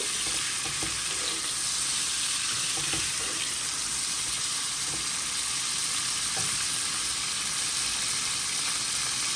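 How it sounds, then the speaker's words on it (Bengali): Shrimp and onions frying in a pan give a continuous even sizzle with occasional stirring knocks, close and steady, with no voices. "ভালো করে এটাকে আমি একটু ভাজা ভাজা করব।"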